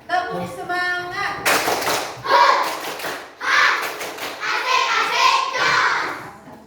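A class claps together in a quick, rhythmic cheer pattern with loud, close bursts of hand claps, while voices chant along at the start and between the beats.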